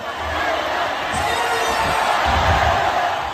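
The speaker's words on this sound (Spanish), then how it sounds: "Estamos en un estadio de fútbol, las gradas están llenas, hay aplausos" A packed football stadium crowd in Somalia fills the stands with steady, dense applause and cheering, a continuous roar of many hands and voices at moderate distance with low rumbles swelling underneath.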